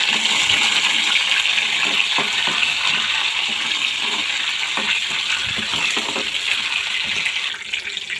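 Garlic cloves and curry leaves sizzle in hot tempering oil for a Telugu red chilli and tamarind chutney, a steady close, bright crackling hiss that runs on without a break and with no talking.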